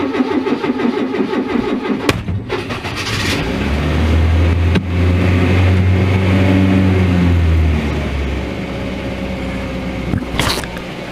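A Renault Trafic van's engine cranks and tries to start, with clicks and a rising mechanical whir that grows into a rough, labouring run before it fades back. The van is close by, and no voices are heard.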